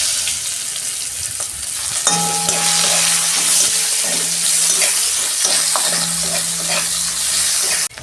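Onion frying in hot oil with cumin seeds, left over from frying fish, a steady close sizzle with intermittent stirring and scraping sounds, without anyone talking.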